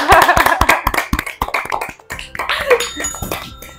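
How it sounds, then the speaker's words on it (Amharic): A small group of people clapping together in a quick, dense burst of hand claps that thins out into a few scattered claps, heard close in a room. "አንዴ አጨብጭቡ።"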